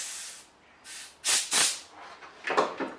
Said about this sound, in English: I'll give that a blowout with some compressed air, just quite gently